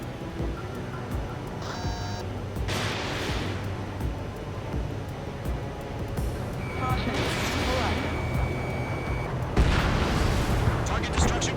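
In Ace Combat 7: Skies Unknown, an anti-air radar vehicle is destroyed with several heavy booming blasts spread across the scene, with radio chatter voices speaking over the battle noise.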